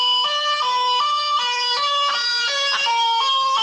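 A guitar imitates a police siren: a loud, steady two-tone wail alternating high and low pitches in a regular rhythm, close and alone with no talking.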